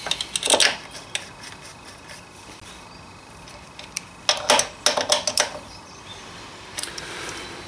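Metallic clicks and ratcheting taps come from fitting and tightening the brake caliper mounting bolts on a Suzuki RF900, sharp close clusters separated by quiet stretches, heaviest near the start and again toward the end.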